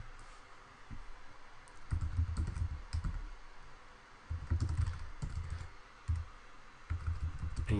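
Keys clatter on a computer keyboard as a domain name is entered, quick irregular bursts of close, fairly quiet typing separated by short pauses.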